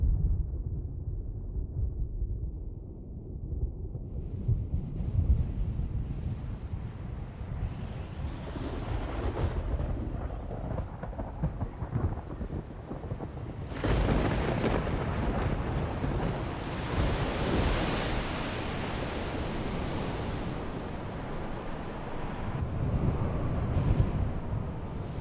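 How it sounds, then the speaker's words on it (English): A spring storm far out on the wild North Atlantic: a steady roar of wind and heavy surf fills the whole stretch, loud and continuous, with a surging swell midway and rumbling low gusts throughout. "Far out at sea, a spring storm brews."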